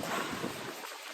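Gusty outdoor wind buffets the microphone in a steady rushing roar for about a second before dropping off abruptly.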